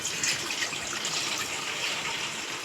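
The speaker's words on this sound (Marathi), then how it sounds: "आणि हे भांडं ठेवलेलं आहे, पाणी ओतून घेऊया आपण." Water pouring steadily into a cooking pot to start sugar syrup for gulab jamun, a continuous close splashing gush with no talk.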